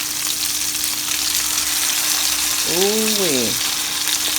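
Steaks searing in a cast iron skillet, a strong steady sizzle close up, with a brief exclamation from a voice partway through.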